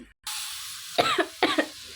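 Two sharp coughs in quick succession, close by, in a kitchen where turmeric and chili powder are cooking, after a brief silence, with a faint background hiss.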